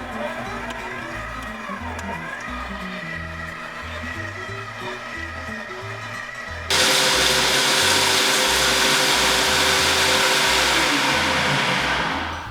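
A stand mixer churns oats into cake batter with a steady motor whir and a rhythmic thumping beat, then jumps abruptly to a much louder, higher speed before winding down at the end.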